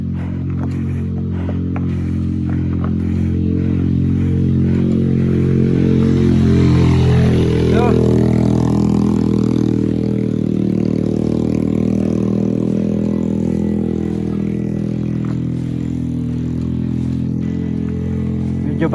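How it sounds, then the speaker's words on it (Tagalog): Motorcycle engine on a steep mountain road during a cyclists' climb at Mt. Timbac, a loud, steady low drone that swells as it passes close by, with no talk. "May motor uli."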